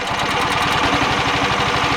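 An Amtex Prowler 14 hp engine cranks with the choke open, a close, steady rapid chugging and knocking pulse that runs throughout at even loudness.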